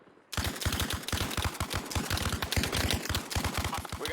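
Machine gun in Arma Reforger fires a sustained rapid stream of loud, punchy shots after a brief quiet start, the rounds coming in a fast, steady rhythm with slight breaks.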